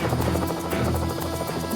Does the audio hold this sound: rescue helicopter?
yes